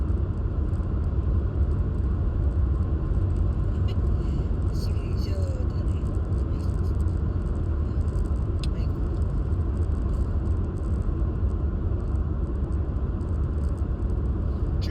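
Steady low road rumble and engine drone from inside a car cruising at highway speed, constant and close throughout, with faint voices above it.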